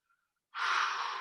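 One long, deep breath is drawn close to the mic during a full body stretch while settling to the floor. It follows a brief faint sound and a moment of silence.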